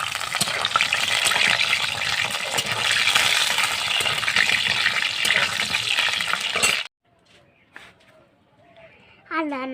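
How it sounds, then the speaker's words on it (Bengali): Chicken coated in black pepper and salt fries loudly in oil, a dense sizzle with stirring scrapes and clinks, then cuts off abruptly to near silence with faint scattered sounds. "আর এখানে দেখো ভেজে নিচ্ছি তেলের উপরে।"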